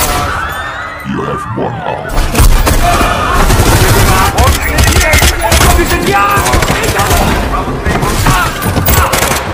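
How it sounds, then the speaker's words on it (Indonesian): Rapid gunfire from an action film about terrorists and a mafia, with dense bursts of shots, booms and impacts, loud and close, mixed with film music and brief voices throughout. "salah satu ketua dari mereka yang bernama John telah tertembak oleh salah satu orang teroris"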